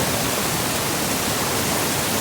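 A flooded river in the Konkan region rushes in full spate, a loud, constant roar of churning water filling the whole clip with no voices.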